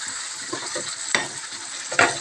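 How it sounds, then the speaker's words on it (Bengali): Food frying in a pan is stirred after tomato ketchup goes in, a constant close sizzle broken by soft scraping strokes and a couple of sharper clinks of the utensil against the pan. "সসটা, টমেটো কেচাপটা দিয়ে দিলাম ওপর থেকে। দিয়ে এবার ভালো মতন এটাকে নাড়াচাড়া করে নেব।"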